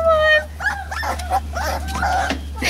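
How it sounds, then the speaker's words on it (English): Puppies whimpering and yipping close by, a string of high, thin whines and short yelps over a steady low hum. "The puppies."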